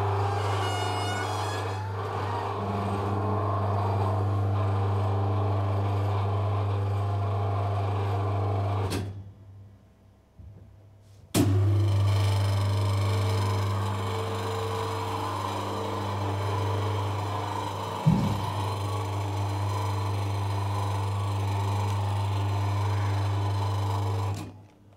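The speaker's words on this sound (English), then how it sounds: "About to open the dome now, so it's a bit noisy." Motorized telescope observatory dome opening: a loud continuous mechanical hum and drone with grinding overtones, briefly stopping midway with a clunk, then restarting and running steadily to the end, with an occasional knock.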